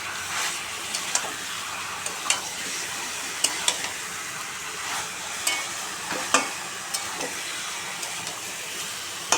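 Chicken curry meat being stirred in a pan of hot oil with ground onion: a continuous sizzle and hiss under repeated spoon scrapes and clinks against the pan, fairly close and moderately loud.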